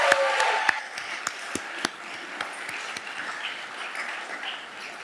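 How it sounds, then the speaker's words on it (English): Audience applause for Solomon at a first-year university welcome orientation, moderate and steady, with a few sharper isolated claps standing out. "let's give Solomon another round of applause"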